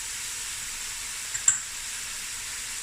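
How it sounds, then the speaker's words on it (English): A winter stew with crushed chilies and green vegetables sizzles faintly in the pan as it is stirred: a soft, steady hiss with one brief clink of the spoon. "Give that another stir."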